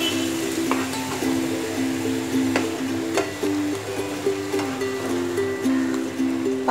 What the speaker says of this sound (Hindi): गैस का फ्लेम लो कर देंगे और अब इस मिक्सचर को अच्छे से हम पकाएंगे